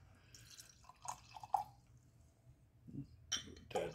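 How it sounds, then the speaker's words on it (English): Ole Smoky moonshine poured into a shot glass, a few soft trickles and drips with light glassy clinks, quiet and close, with short pauses between pours. "we're gonna pour us up a little shot here"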